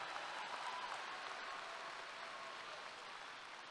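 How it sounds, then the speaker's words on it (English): A high school graduation crowd gives steady, distant applause for a student, a soft continuous wash of clapping that slowly fades slightly. "let's give him a round of applause too."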